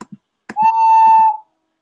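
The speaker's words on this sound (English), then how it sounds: "This can actually be used as a whistle too." A short toy whistle blows a steady high tone for under a second, with a few soft clicks and handling noises around it.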